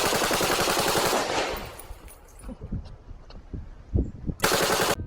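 Toy Nerf-style blaster modeled on an M47 fires soft bullets in loud rapid bursts, a dense automatic rattle at the start, scattered single pops in the middle and another sharp burst near the end.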